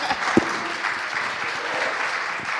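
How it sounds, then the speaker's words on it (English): A conference audience at a panel on Lightning and the creator economy claps in a moderate, even patter of many hands, with one sharp, close clap standing out near the start. "You can clap."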